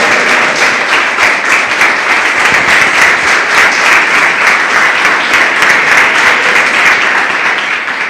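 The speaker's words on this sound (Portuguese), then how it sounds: "eu louvo a Ele com minhas palmas" A church congregation claps together in praise, a loud dense wash of applause that stays steady throughout, with faint voices underneath.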